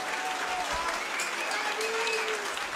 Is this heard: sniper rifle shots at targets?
no